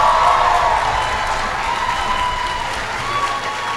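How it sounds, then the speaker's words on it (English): Audience at a Tampa comic convention cosplay contest applauding and cheering as costumed contestants walk back offstage, a steady, dense wash of crowd noise with clapping throughout. "One more round of applause as they walk"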